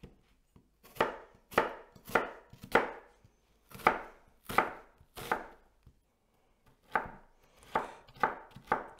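A knife chops onions and carrots on a board in sharp, loud, close strikes. They come in uneven bursts with short pauses between groups, about a dozen cuts in all, and no voices are heard.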